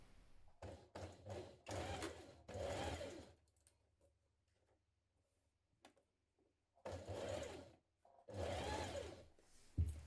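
A home sewing machine stitches a double seam on a blouse in several short whirring bursts, with a long quiet pause between the groups of bursts, close by.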